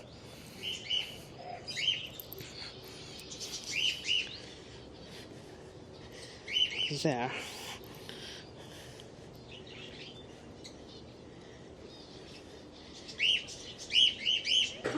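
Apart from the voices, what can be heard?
lovebirds and budgerigars chirping in an aviary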